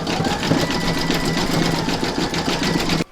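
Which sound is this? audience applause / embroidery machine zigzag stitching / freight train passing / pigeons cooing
embroidery machine zigzag stitching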